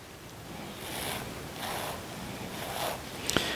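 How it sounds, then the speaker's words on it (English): Wheatgrass grown in a standard tray is sliced close by hand, giving a soft continuous rustling, tearing swish that swells and fades several times, ending with a couple of small clicks. "Wheatgrass is easy to cut."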